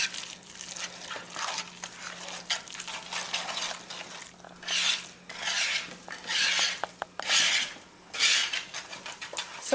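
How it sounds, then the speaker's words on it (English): Sweet potatoes for a casserole being whisked by hand in a bowl, giving a steady run of scraping, rasping strokes with some clinks of metal against the bowl, close and fairly loud, with no talking. "You're going to want to whisk your potatoes."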